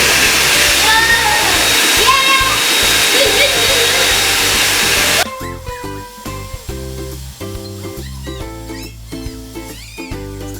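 A home ice cream maker blends loudly with a whirring motor roar for about five seconds, then cuts off, leaving a quieter stretch of household noise and clatter.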